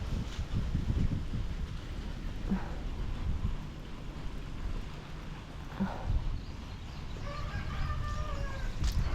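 Chickens cluck and a rooster calls at a farmyard during a spell of heavy rain, the bird sounds scattered and faint to moderate over steady rain and wind noise.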